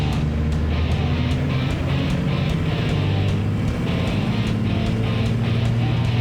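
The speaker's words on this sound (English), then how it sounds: "Do that turbo spool a little better," A truck's turbo spools and whistles on a dyno after an upgrade meant to double its horsepower, a steady loud engine roar with a high whistle pulsing in a regular rhythm over it throughout.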